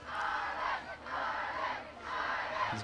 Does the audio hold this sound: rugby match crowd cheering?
yes